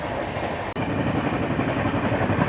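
A steady rumble and rattle from inside a moving sleeper class train carriage, continuous and fairly loud, with one brief sharp dropout early on.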